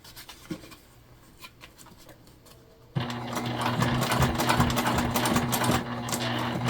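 A sewing machine stitches through bulky fabric layers of a small crossbody bag near a D-ring, first a soft slow patter, then a sudden louder, steady close whirring run of stitches that continues to the end.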